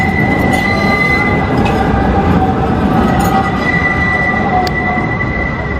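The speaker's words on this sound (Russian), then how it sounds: "Трамвайчики ходят." A tram rumbles past at close range on a city street in Istanbul, with a steady low roar, metallic ringing tones and faint wheel squeal, no voices.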